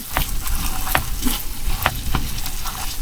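Scrambled food fries in a pan on a stovetop, a dense steady sizzle broken by several scraping stirs of a utensil, close and alone without speech.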